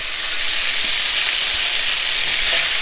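Drained spaghetti tossed into a pan of crisped bacon for spaghetti carbonara, giving a loud, steady, close sizzle that holds evenly throughout with no voices.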